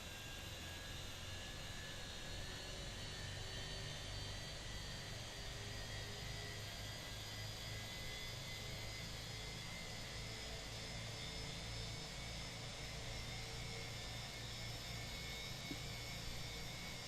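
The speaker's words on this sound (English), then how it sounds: "So ignition on to start, and engine number 2 to on." An Airbus A320 jet engine spools up during start in a flight simulator, heard from outside as a steady, continuous whine and broadband rush with a low rumble, unbroken and with no voices.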